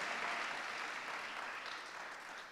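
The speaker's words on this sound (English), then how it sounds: "I need somebody to clap for me" A panel-discussion audience applauds, a steady wash of many hands clapping at moderate distance that slowly fades toward the end, with no voices over it.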